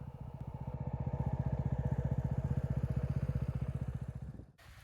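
A dirt bike engine chugs in a steady, rapid pulsing rhythm on forest roads, close and fairly loud, holding for several seconds before cutting off abruptly near the end.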